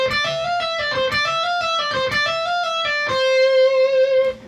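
Electric guitar plays a fast legato lick of hammer-ons and pull-offs around D that resolves back to C, quick rippling notes close and clear, closing on a ringing held note with no voices.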